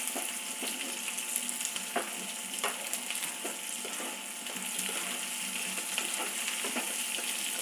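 Ingredients for sambar sauté in a pan with a steady, soft sizzle and occasional scraping stirs, close and continuous with no talking.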